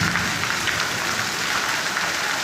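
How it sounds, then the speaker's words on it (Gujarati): Heavy rain pours down in Mehsana, a dense, constant patter and hiss of drops hitting surfaces, loud and unbroken throughout with no one speaking. "મહેસાણામાં વરસાદ પૂરજોશમાં હવે ચાલુ થયો."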